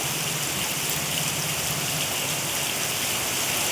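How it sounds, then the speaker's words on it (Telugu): Heavy rain pours down steadily with no wind, flooding the road in front of a house; a dense, continuous roar of water fills the whole stretch at close range. "ఇప్పుడు గాలి లేదు కానీ వర్షం దంచి కొడుతుంది"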